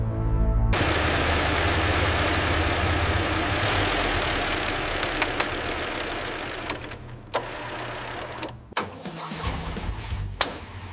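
A restored 1970 Toyota Land Cruiser FJ40 engine catches and settles into a steady, loud idle, a chugging low rumble that holds on and is later broken by a few sharp clicks and knocks.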